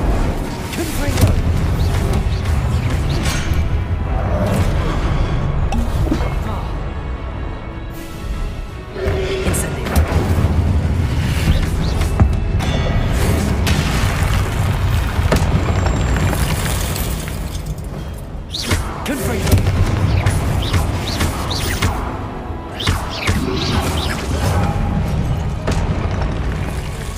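Confringo explosive spell blasts in the Hogwarts Legacy video game, a long run of heavy booms, crashes and shattering impacts in waves, loud and dense, with voices shouting over the action.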